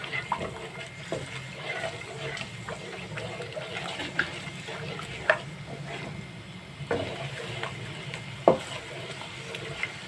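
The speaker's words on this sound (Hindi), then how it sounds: "इसमें मसलसल चम्मच हिलाते जाएंगे ताकि ये चीनी नीचे ना लगने पाए" A spoon stirs sugar melting in a cooking pot, giving a steady low scraping and bubbling texture with scattered small clicks and knocks against the pot over the whole stretch.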